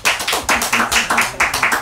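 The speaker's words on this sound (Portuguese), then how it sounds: "uma salva de palmas nesse estúdio" Lively applause from a small studio audience, a quick run of overlapping claps close by.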